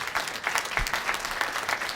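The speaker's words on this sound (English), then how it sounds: "Yeah, clap it up for her." An audience claps for a woman named from the crowd, a dense steady patter of many hands from start to finish, moderately loud with no voices over it.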